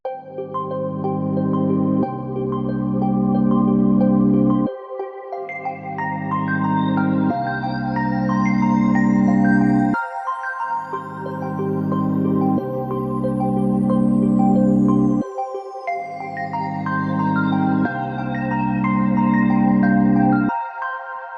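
A sad hip-hop beat built from a chopped Splice sample with Diva synth ambience and an arpeggiator, looping chords in steady two-bar phrases with a rising and falling sweep, full and loud with no voices.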